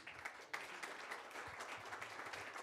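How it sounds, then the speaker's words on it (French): An audience at a conference on the climate benefits of IT applauds a speaker being welcomed, a faint, distant patter of clapping with a few sharper claps standing out. "Vous pouvez l'applaudir."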